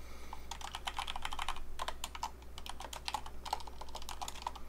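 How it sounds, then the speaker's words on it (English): Computer keyboard typing during a gaming-news livestream, a steady run of quick clicky keystrokes at close range over a low constant hum, with no talking. "You guys gonna hear me typing a little bit."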